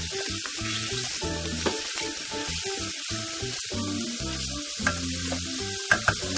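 Onions frying in a pan for beef stroganoff give off a steady, close sizzle with occasional stirring scrapes, while a tonal background runs underneath throughout.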